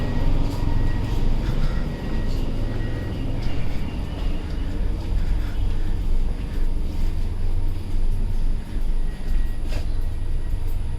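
Interior rumble of a tram ride in Mauritius, a steady loud low drone of the moving car with faint rattles and squeaks throughout, no talking.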